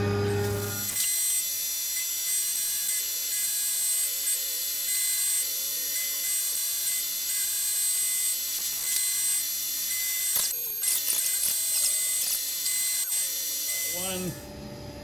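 A Tormach CNC mill cutting a 6061 aluminum brake caliper bracket, a sustained high whine with steady tonal overtones running throughout, with a brief harsher burst near the end.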